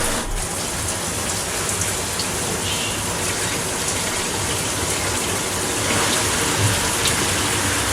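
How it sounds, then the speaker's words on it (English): Water sprays hard from six shower heads at once in a remodeled bathroom, a loud dense hiss and splatter that holds steady throughout, swelling slightly near the end. "we got 1, 2, 3, 4, 5, 6 shower heads going on right now"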